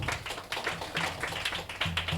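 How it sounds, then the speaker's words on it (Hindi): A church congregation claps in a quick, loose rhythm, a moderately faint patter of hands with music playing underneath. "अपने लिए ताली बजाएं।"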